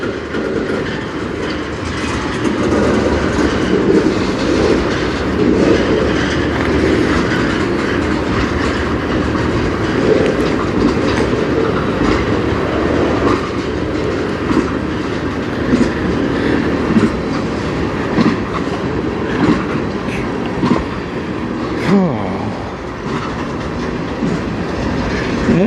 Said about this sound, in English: I'll just state what the train is as it's pulling up